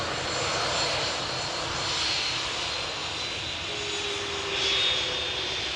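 EasyJet Airbus A320 at Amsterdam Schiphol Airport after arriving from Edinburgh, a continuous broad engine roar with faint whining tones, fairly loud and steady with slight swells, no talking.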